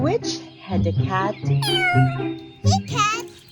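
A voice imitates a cat, giving a series of drawn-out, rising and falling meows during a dramatized children's read-aloud, loud and close with short gaps between calls.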